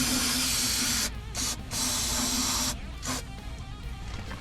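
Compressed air hisses loudly and close from the onboard air system of an old square-body truck fitted with a Horn Blasters kit, in several bursts with brief drops between them.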